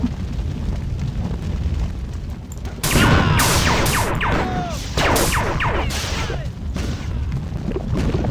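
Bobs exploding in the video game Marathon 2 Durandal: a string of loud bursts and crackling blasts, some with falling squeals, going off one after another over a low rumbling background.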